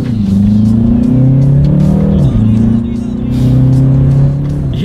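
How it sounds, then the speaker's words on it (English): Engine of a 2019 BMW 330i revving and pulling through quick paddle-shifted gear changes, pitch climbing then dropping sharply at each shift, loud and close inside the cabin. "And let's do that paddle shifter test here,"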